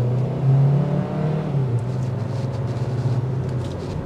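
A 2024 Hyundai Kona Limited's 1.6-liter turbocharged four-cylinder, rated at 190 horsepower, drones steadily from inside the cabin as it accelerates, a low continuous hum with slight surges and no voices.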